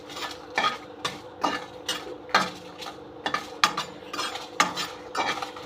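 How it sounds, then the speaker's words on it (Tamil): Dried red chillies are dry-roasted without oil in a pan for idli podi. A spoon scrapes and tosses them in a quick, regular rhythm, about two strokes a second, with a faint dry rattle. No one speaks. "அந்த மிளகாயை லைட்டாக எண்ணெய் இல்லாமல் வறுத்து எடுத்துக்கோங்க"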